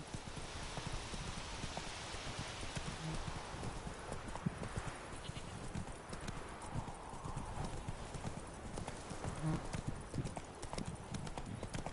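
Rhythmic hoofbeats of the horse Roach trotting in a video game, a steady clip-clop over a soft ambient bed, moderately close and continuing throughout without pause.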